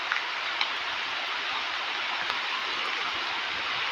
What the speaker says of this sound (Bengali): এরকম বৃষ্টি হচ্ছে দেখো